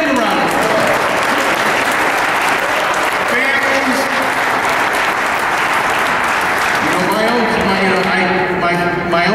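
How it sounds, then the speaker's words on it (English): Loud applause from an outdoor crowd at a Walk for Life rally fills the air for several seconds, a thick continuous clatter of hands, with people talking and calling out over it. "Give him a round of applause."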